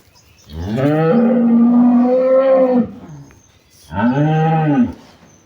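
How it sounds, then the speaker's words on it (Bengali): A young bull calf moos loudly and close by, giving one long drawn-out call followed by a shorter second moo, with quiet farm background between the calls. "এটা হলো ষাঁড় বাচ্চা দর্শক, এটা হলো ষাঁড় বাচ্চা"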